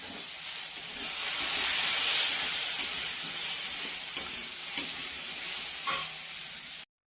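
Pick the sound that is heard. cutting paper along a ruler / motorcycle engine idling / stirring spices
stirring spices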